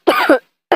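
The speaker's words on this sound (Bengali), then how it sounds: "আহা, কাশি বের হলো" Close, loud coughs from a cartoon character's voice: a harsh double cough, a short pause, then the start of another.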